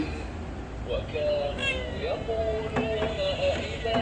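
A house cat meows several times indoors, short rising and falling cries mixed with a person talking over them.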